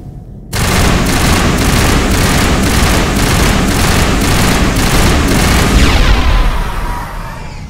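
In the Mass Effect shooter, a grenade blast and sustained automatic gunfire break out after a brief quiet moment: loud, rhythmic bursts of shots pound continuously, then fade slightly toward the end.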